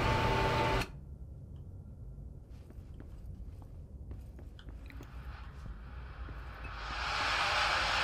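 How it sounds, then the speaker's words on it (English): Loud radio static hisses from the Control video game, cutting off abruptly early on, leaving faint ticks and shuffles before the hiss swells back in near the end. "Turn off that static, man."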